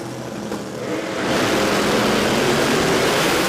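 Drag racing cars launch down the strip at a radial tire shootout event, a loud sustained engine roar that swells sharply after the first second and holds steady to the end.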